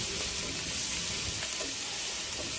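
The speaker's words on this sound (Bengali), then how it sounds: "রসুন, আদা এবং লঙ্কা কুচি একসাথে ভালোভাবে মিশিয়ে নিয়ে একটু নেড়ে চেড়ে 1 থেকে 2 মিনিট ভেজে নিতে হবে।" Chopped garlic, ginger and chilli frying in hot oil for a dhaba-style egg tadka, a dense, steady sizzle filling the sound close up, with occasional faint stirring and no voices.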